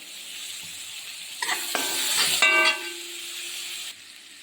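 Mustard seeds and other ingredients sizzle in a pan for upma. A soft crackle swells as something is added, then a brief clatter and scrape settles back into a quieter hiss that cuts off near the end.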